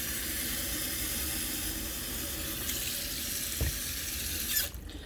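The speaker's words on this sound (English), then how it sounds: "I'm going to pour a cup of water in" Steady hissing rush of water from a kitchen tap filling a cup for a slow-cooker pot roast, continuous and close, with a faint clink near the end as the flow cuts off.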